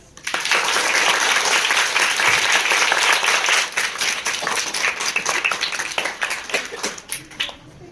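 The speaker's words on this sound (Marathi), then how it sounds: "हात लावून टाळ्या वाजवा." Audience at a Marathi poetry session with a guest poet claps in a dense, sustained round of applause that tapers off near the end.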